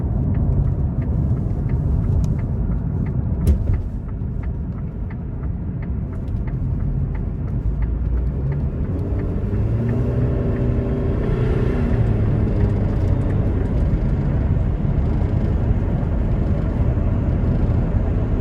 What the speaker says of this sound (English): We'll give it some throttle getting on the interstate here